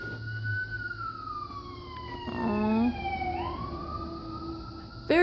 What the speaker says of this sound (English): some siren, police car, fire truck, ambulance, combination thereof, every day that I've been here.